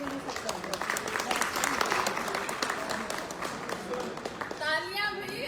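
Crowded audience applause at an event, a thick, continuous patter of many hands with voices calling out over it, easing off near the end.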